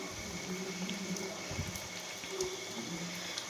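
Suji mendu vada sizzling and bubbling steadily in hot frying oil, a close, continuous crackle with no voices.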